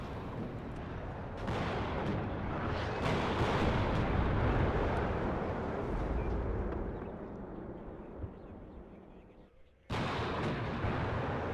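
Artillery barrage in the Cold War strategy game WARNO, a sustained rumbling wash of distant and near shell blasts with overlapping booms, dipping briefly near the end before resuming loudly; a voice talks now and then underneath.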